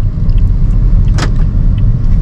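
Steady low engine and road rumble from inside a 2021 Toyota Yaris GR Sport hatchback with CVT while driving, with a brief hiss of wind or tire noise rising partway through.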